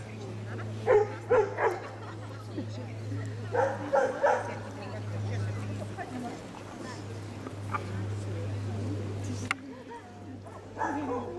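Small dogs at a dog show in Latvia yip and bark in short bursts, fairly distant, over a steady low hum, with a person's voice speaking now and then.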